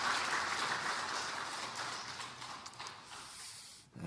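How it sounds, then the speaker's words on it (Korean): A church congregation applauding at a 121st anniversary Sunday service, dense clapping at the start that gradually thins and fades, heard from within the room. "네, 하나님의 영광의 박수 돌립니다."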